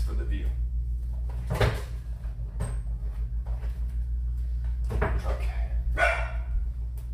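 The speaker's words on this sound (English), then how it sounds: "Why is he barking?" Indoors during unpacking, a dog gives a few short, separate barks spread over several seconds over a steady low hum. The barks sound moderately close, with quiet background noise between them.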